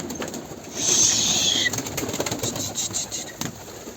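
Pigeons in a coop at feeding time, a loud flurry of flapping wings followed by rustling and movement, with soft cooing and bird calls close by; no clear speech.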